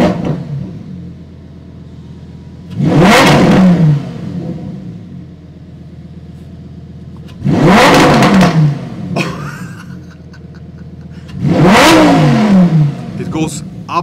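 Lamborghini Huracan Tecnica V10 revved hard three times from idle, each loud rise climbing toward 7,000 rpm and dropping back to a rumbling idle between blips, heard from inside the car.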